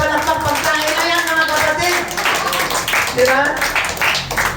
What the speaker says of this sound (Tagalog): Palakpakan po natin si Lord.